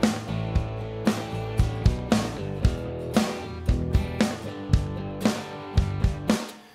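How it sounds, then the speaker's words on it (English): A simple programmed drum track in SONAR, only kick and snare, plays a steady repeating groove of punchy hits with varying velocity, alone and clear. "This drum track just has kick and snare"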